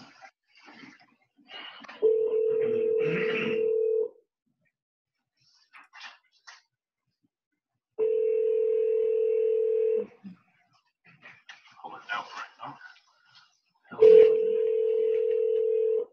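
A phone line places a call during a remote park district board meeting, producing three steady two-second ringing tones separated by longer gaps, with faint background noises in between.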